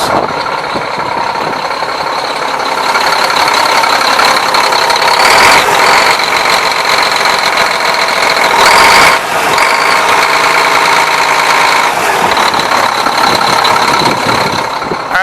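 A 550 hp Mack Superliner's all-mechanical diesel idles loudly and close, a steady knocking clatter with a high mechanical whine and brief surges, no talk.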